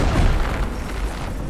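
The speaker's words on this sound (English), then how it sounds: "Just fire the cannons." Ship cannons fire in the pirate game Blazing Sails, heard as a heavy, rumbling boom that rolls on with deep low-end weight and fades slowly, with no talk over it.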